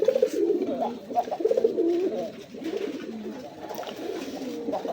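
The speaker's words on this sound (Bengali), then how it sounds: "এই পেয়ারটা আমাদের পুরান জাতের রাসগোল্লা কবুতর" Several old-type Rasgolla desi pigeons coo in low, throaty, repeated phrases close by, a steady overlapping burble that continues throughout.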